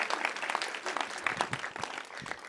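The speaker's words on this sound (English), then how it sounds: "Yes, applaud, please." Audience applause at the first This Is My Brave show in Eagle Valley, a dense, steady patter of many hands clapping that fills the room and holds without pause.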